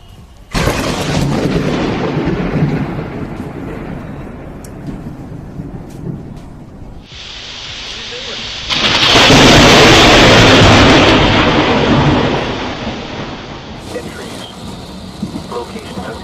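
Thunder from lightning strikes rolls and rumbles loud and close, with a sudden crack followed by a long, heavy roar and sustained rushing noise, and a voice speaks at times.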